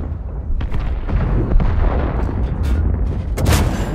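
STA-2 tank cannon fire in a tier 10 tank battle game: loud booming shots and rumbling blasts over continuous engine and battle noise, dense and close throughout.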